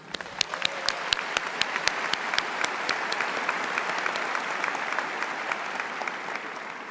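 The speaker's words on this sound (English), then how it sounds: "Please join me in a round of applause for the Harris County School District workers." Audience applause at a 2026 Harris County High School graduation ceremony honoring the school district workers, steady clapping from a large crowd, a few sharp nearby claps standing out early before the applause gradually thins.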